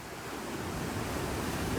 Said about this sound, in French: Les vagues qui arrivent